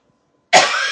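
A single sharp cough bursts in loud and close after half a second of silence, then trails off in a breathy rasp.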